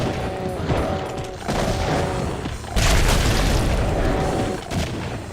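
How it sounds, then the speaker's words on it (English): Pinky demons blow up in a Doom mod with extra explosions, a dense run of loud, booming blasts that rolls on almost without pause, swelling heavier about halfway through. "fisting pinkies is a dangerous proposition when they explode after they die"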